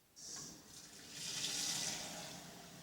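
Tap water pours steadily into a container while the water in a coffee maker is being changed, a broadband rushing stream that swells after a brief start and carries on alone.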